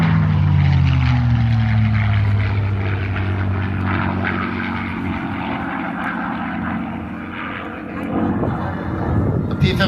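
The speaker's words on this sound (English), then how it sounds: "The P-51 Mustang," A P-51 Mustang propeller fighter flying past at an air show, its engine droning loud and steady with a falling pitch as it passes, heard alone without talk.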